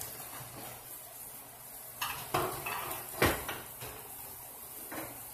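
Utensil stirring stir-fried ampalaya (bitter gourd) in a pan, with a few scraping clinks and knocks over a soft sizzle, close and fairly quiet.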